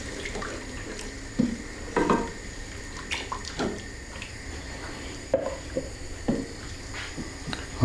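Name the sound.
stock being poured into a pan of cooking food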